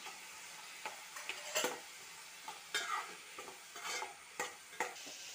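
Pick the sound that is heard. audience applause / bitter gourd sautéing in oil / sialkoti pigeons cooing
bitter gourd sautéing in oil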